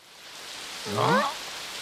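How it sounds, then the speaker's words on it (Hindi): Heavy rain falls in a steady, soft hiss throughout, with a brief voiced sound rising over it near the middle. "बारिश कितनी तेज हो गई"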